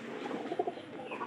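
A domestic pigeon indoors gives a short series of soft, low coos close by, with faint background hum and no talking.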